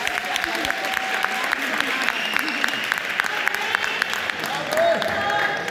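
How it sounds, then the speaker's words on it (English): Audience applause after an original song at a live performance: a dense, steady patter of clapping hands with crowd noise and a voice speaking over it, continuing throughout. "Let's give him a round of applause."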